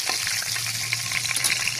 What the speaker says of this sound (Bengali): আমি ভালোভাবে নাড়াচাড়া করে ভেজে নেব